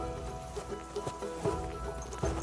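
Horse hooves clip-clopping in the medieval video game Kingdom Come: Deliverance 2, a few irregular muffled hoof strikes at moderate distance over a low ambient game bed, with no speech.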